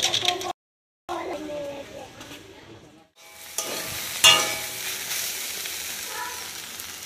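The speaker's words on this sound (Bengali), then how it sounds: "টিফিনে ভেন্ডি ভাজা হচ্ছে" Okra fries in a pan at home as a tiffin snack, a soft continuous sizzle with faint stirring, broken by brief gaps of silence.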